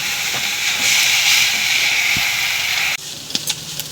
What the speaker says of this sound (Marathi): एक 2 मिनिटं मेथी परतून घेऊ